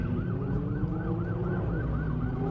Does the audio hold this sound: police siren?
yes